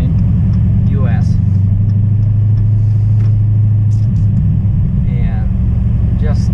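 A 2018 Dodge Challenger R/T 392 Scat Pack fitted with a Flowmaster Outlaw exhaust drones with a steady, loud V8 rumble while cruising, a constant low burble from inside the car with faint road noise above it.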